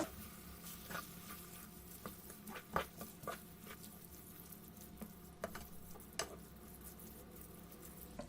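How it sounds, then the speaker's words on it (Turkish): Rice with spices and mint being stirred in a pot: faint, steady sizzle with scattered soft scraping and patter of a spoon turning the grains, no talk. "Bir yemek kaşığı nane, iyice karıştırıyorum"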